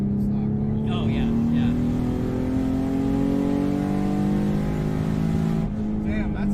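A Nissan Z sports car, a modified bolt-on build, drives fast with a steady, rising engine drone that holds loud and close for several seconds before easing slightly near the end.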